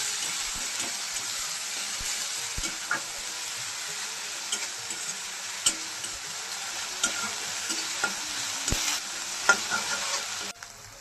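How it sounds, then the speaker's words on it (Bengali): A ginger, chili and garlic paste fries in a pan while being stirred, with a steady close sizzle broken by scattered scraping clicks of the spatula. "ভালো করে নাড়িয়ে নিচ্ছি"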